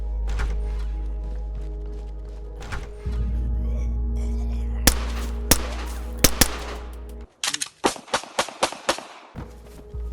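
Gunshots in the survival shooter DayZ, loud close single shots and a quick burst of about eight rapid rounds toward the end over a constant low engine-like drone, with some handling clicks between them.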